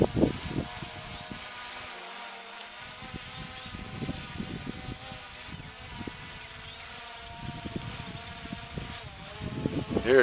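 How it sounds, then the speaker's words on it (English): A small drone comes in to land on a windy day, its faint, steady, insect-like buzzing whine heard under gusting wind rumble and occasional low thumps. "And here comes the drone."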